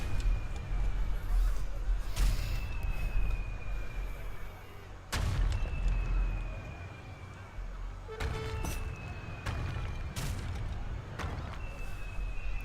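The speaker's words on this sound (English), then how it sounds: "Literally nothing he can do about the bombs coming from above." Artillery bombardment in Age of Empires 3 Wars of Liberty: several sharp booming impacts spaced a few seconds apart over a rumbling battle din, with whistling shells and faint voices underneath.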